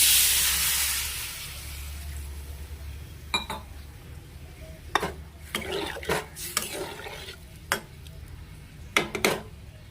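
Cauliflower curry sautéed in a pan, a spoon scraping and clinking against the metal in irregular bursts over a low sizzle, close by with no talk.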